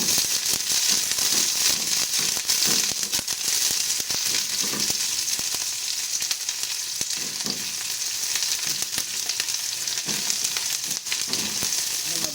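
Onions fry with browned garlic in a pan, giving a loud continuous sizzle dense with crackles and pops that holds steady throughout, with occasional stirring scrapes and no speech.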